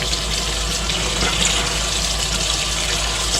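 Cold tap water runs steadily from a kitchen faucet into the sink while homemade butter, whipped in a KitchenAid mixer, is rinsed, a continuous close hiss and splash with no voices.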